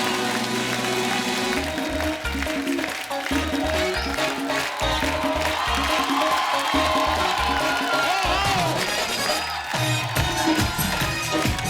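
Studio audience at The Kapil Sharma Show applauding and cheering as Deepika Padukone is welcomed, a dense, loud wash of clapping and whoops over a steady music bed lasting throughout.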